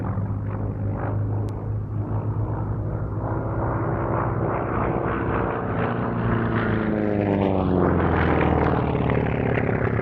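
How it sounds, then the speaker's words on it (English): A Grumman F4F Wildcat fighter in Fleet Air Arm markings pulls up overhead at an air show, its rattly piston engine roaring loud and continuous, with the pitch shifting as it climbs away. "massive and rattly sounding little Wildcat pulling up above us"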